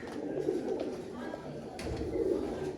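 Sialkoti pigeons cooing softly, low throaty calls repeating in a steady murmur, close but faint, with light background rustle and a brief sharper noise midway.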